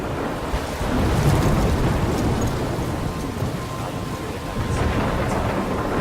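Thunderstorm in Life is Strange: steady heavy rain with a continuous low rumble of thunder rolling underneath, loud and constant throughout with no voices.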